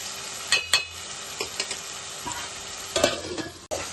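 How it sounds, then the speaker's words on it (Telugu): Tomato pieces being stirred into softened onions in a pan for egg cashew curry, with a low steady sizzle and several distinct spoon scrapes and clinks, close and fairly quiet, no talking. "ఇలా కలుపుకొని ఇవి కూడా 2 నిమిషాలు మగ్గనిద్దాం"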